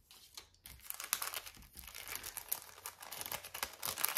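Small paper envelopes are handled close by, producing busy crinkling and rustling with occasional sharper crisp snaps, steady throughout without talk.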